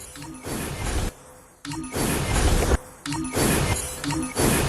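Slot machine reels spin in a video game, repeated bursts of loud mechanical whirring and clattering with chiming tones, separated by brief quieter gaps, no talk.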